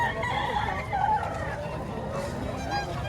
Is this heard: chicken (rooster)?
yes